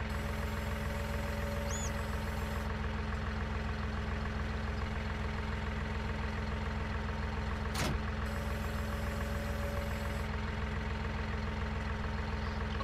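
A tractor engine idles steadily in Farming Simulator 19, a constant low, knocking drone at a fairly quiet level with no talk, marked midway by one brief high sweep.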